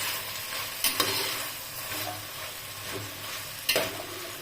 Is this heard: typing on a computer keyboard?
no